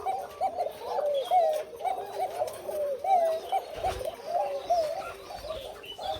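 White Koka pigeons on a Bangladeshi pigeon farm coo in soft, rolling, repeated phrases, several birds overlapping at close range over a faint background hum, without any talking.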